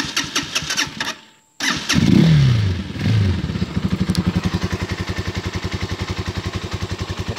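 A 2018 Serpento Taypan 200cc motorcycle engine starts in neutral with no choke after a brief starter crank and a short gap, revs up, then settles into a steady, even low idle thump, loud and close.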